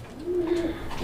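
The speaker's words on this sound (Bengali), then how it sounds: "দর্শক দেখতে পাচ্ছি এখানে আরো এক জোড়া কবুতর, শাটিং কবুতর একটা জোড়া, ঝর্ণা শাটিং।" A pair of fancy shatting pigeons gives a single soft, steady coo lasting about half a second, close by, with a low murmur of background noise around it.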